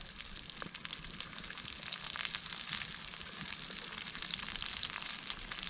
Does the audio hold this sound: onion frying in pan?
yes